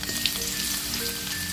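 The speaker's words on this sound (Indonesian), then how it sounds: "Panaskan minyak, kemudian masukkan bawang merah dan bawang putih." Shallots and garlic fry in hot oil, giving a steady, close, crackling sizzle with small pops and faint stirring throughout.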